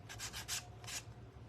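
A craft gourd being sanded by hand gives four quick abrasive rubbing strokes, close and fairly quiet, each a short scratchy swish with brief gaps between.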